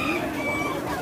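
Chickens cluck and squawk at a busy Vietnamese pet market, a loud, close flurry of fowl calls with murmuring voices in the background.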